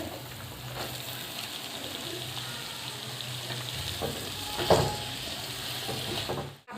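Fenugreek greens (methi) go into hot oil seasoned with turmeric for a Khandeshi-style methi bhaji, making a continuous frying sizzle that swells into a brief sharp burst near the end.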